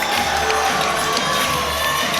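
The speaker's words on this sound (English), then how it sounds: "the fans here giving Meadow a round of applause" A live wrestling crowd cheers and applauds at a CCW Alive event, a dense, loud, sustained roar of voices and clapping that fills the arena throughout.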